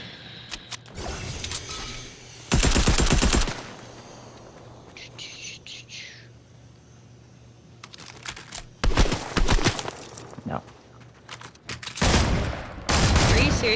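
Video game gunfire rings out in several loud, sharp bursts of rapid shots separated by quieter gaps, with keyboard and mechanical clicks and brief talk in between.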